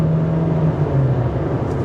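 A 2025 Kia K4 EX sedan in sport mode accelerates onto a highway, giving a steady engine drone and road whir heard from inside the cabin, with no talk.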